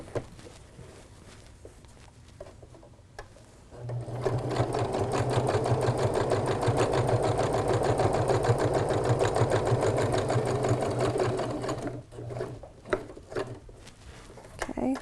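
A sewing machine stitches fabric for a pillow, a steady fast whirring hum running for about eight seconds, framed by quieter handling clicks and rustles before and after.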